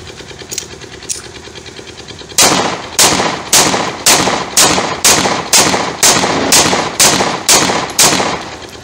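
A Zigana Sport mini-size 9mm pistol is test fired, with a couple of fainter early shots, then a loud, steady string of about a dozen evenly spaced close reports.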